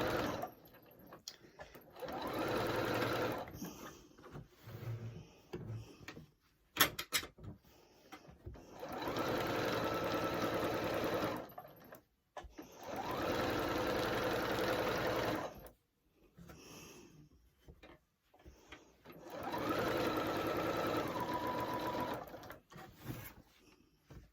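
A Singer 8500Q sewing machine circle quilting, with four bursts of fast, steady mechanical stitching whirr separated by quiet pauses and small handling clicks, close and clear.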